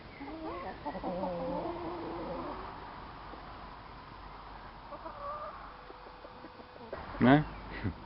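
Hens cluck softly in the background for several seconds while picking through pulled-off sheep wool, followed by a couple of sharper, louder clucks near the end.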